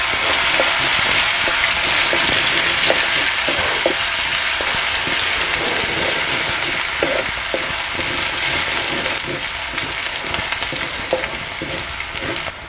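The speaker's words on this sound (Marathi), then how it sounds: "तर आपण ह्यामध्ये लसूण घालूया। लसूण थोडंसं आपण हे परतून घेऊया।" Garlic sizzles steadily in hot oil with mustard seeds and cumin, a dense close frying hiss with scattered pops and crackles throughout, for a Maharashtrian vagatyachi bhaji.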